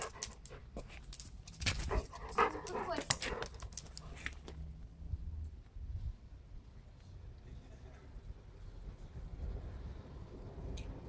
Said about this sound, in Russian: Какой серьезный пес.